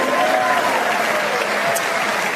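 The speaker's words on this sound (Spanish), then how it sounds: "Ahora aplauden, ¿eh?" A church audience applauds during a sermon, a sustained wash of clapping from many hands that fills the room without pause.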